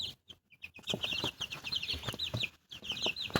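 Young Ameraucana-mix chicks peep in a brooder box, a steady chorus of high, bright chirps running close and continuous, with brief quiet gaps between bursts.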